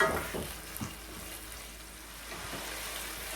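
Saltfish frying in a pan gives a steady close sizzle, with a few soft clicks and stirring sounds near the start, no voices.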